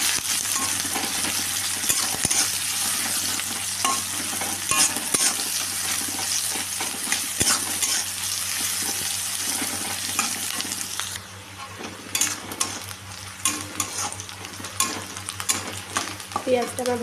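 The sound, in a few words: onion and dried chili frying in oil, stirred in wok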